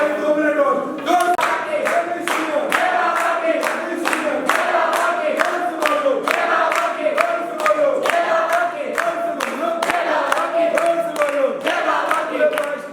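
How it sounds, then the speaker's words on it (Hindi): A crowd at a Jain pilgrimage gathering claps in steady, rhythmic unison, loud and close, with voices chanting along over the beat throughout. "सब तालियां बजाओ 2 मिनट और जोर"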